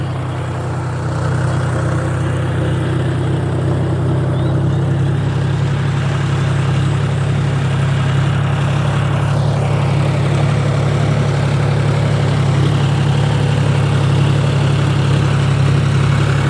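A motor runs steadily in a paddy field on rice transplanting day, a loud continuous low hum with a strong droning tone, holding unbroken throughout with no voices.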